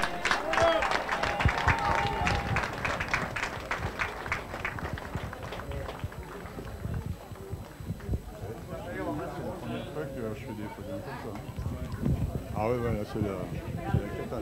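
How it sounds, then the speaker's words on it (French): A crowd claps and applauds for podium winners at a 2024 NSK event in Aunay-les-Bois, a dense, sustained patter of clapping under an announcer's voice. "on leur fait une salve d'applaudissements"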